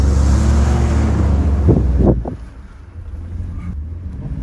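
A Ford Lobo pickup truck's engine roars loudly while driving in four-wheel drive, wind buffeting the microphone, then cuts back abruptly to a quieter idle rumble after a few seconds.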